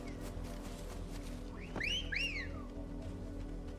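In Final Fantasy XVI, a whistle calls the Torgo mount: two quick rising and falling whistled sweeps, clear and close over a quiet steady background hum.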